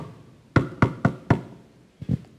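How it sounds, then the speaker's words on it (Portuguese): Knocking as if on a wooden door during a church sermon: four quick, loud raps in a row, a short pause, then two softer knocks. "Eis que estou à porta e bato."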